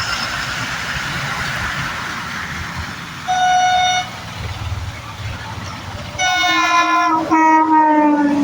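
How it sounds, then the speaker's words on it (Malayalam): A train rolls past in rainy Kerala with a steady rumble of wagons, and its horn sounds twice, a short toot followed by a longer, louder blast near the end. "അവിടുത്തെ ട്രെയിൻ നോക്കി"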